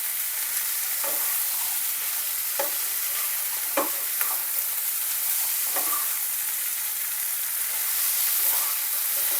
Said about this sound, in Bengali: আমার ভাজা হয়ে গেছে